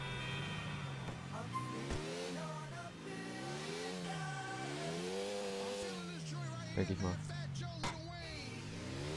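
A car engine revs in GTA IV, its pitch rising and falling in repeated waves while someone talks over it, with a few sharp impacts near the end.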